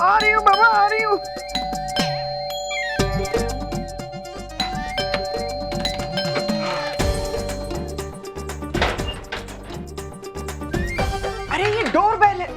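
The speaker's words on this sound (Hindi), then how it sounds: "अरे ये डोरबेल है, कोई मंदिर की घंटी नहीं जो 21 बार बजानी पड़े।" A doorbell in a home drama scene chimes several times in quick succession, bright ding-dong tones ringing out over background music, with a voice talking between the rings.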